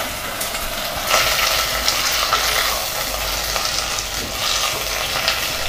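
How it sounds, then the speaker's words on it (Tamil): Cleaned drumstick leaves sautéed in a pan crackle and sizzle steadily up close, with a spatula repeatedly scraping and tossing them and no talking. "லைட்டாக நம்ம வதக்கிக்கலாம்"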